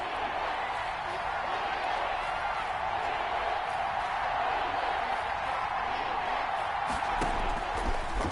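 A crowd at an American football game building up before a big third down: a steady, dense roar with scattered clapping that swells slightly toward the end.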